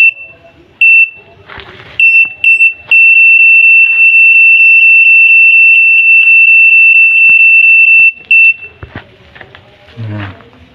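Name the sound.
parking sensor warning beeper installed in Suzuki APV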